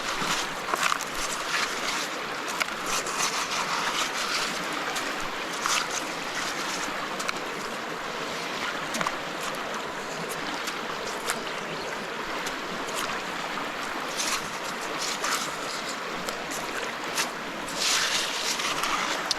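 Gold panning in a creek: water and gravel swirl steadily in a pan with a constant rushing wash and faint gritty scrapes, no talking.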